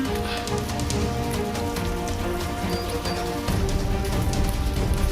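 Storm rain with hail pours down in Kannauj, Uttar Pradesh, a dense, steady patter on surfaces that swells slightly heavier partway through and never lets up.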